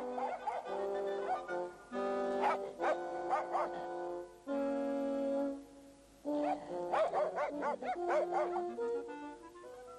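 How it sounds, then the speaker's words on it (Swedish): A small dog yips, whimpers and barks in bursts with short pauses between, close and clear, with whiny tonal cries mixed into the yapping. "Men Prick började skälla på Kristin och slet i hennes kjol så hon måste rusa upp på bänken"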